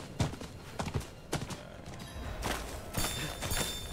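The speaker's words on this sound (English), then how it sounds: "Since I have the vehicle, the horse. I'm gonna speed up this travel distance a bit." Hooves clip-clop at an irregular gallop as a horse is ridden in a video game, moderately faint, with a few louder thumps and some rushing background noise.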